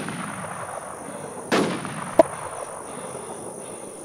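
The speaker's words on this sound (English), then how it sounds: "Someone else is sniping." Sniper rifle fire in the online survival game Infestation: Survivor Stories, heard as a muffled distant boom and then one sharp, crisp crack, each brief against a low steady game ambience.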